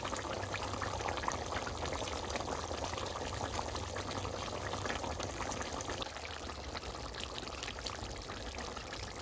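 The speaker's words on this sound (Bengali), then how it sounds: "সে পরিমাণ মতো অল্প করে জাস্ট জল দিয়ে দেবো" Water is poured in a small amount into a cooking pot of curry, giving a steady, continuous broadband pour with a faint bubbling simmer underneath, close and even throughout with no talk.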